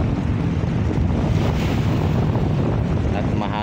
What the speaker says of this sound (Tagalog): Malakas yung ating hangin.